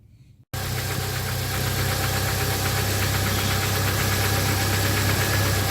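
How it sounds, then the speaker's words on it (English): A 1997 Jeep Wrangler engine starts up and runs steadily to warm up, a close, loud, continuous idle with a low throbbing hum and a rapid ticking, knocking texture throughout. "what I'm gonna do is run the engine to warm it up so it's not so cold"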